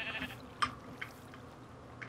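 A Minecraft sheep gives a brief bleat or two, faint and short, over a quiet low hum.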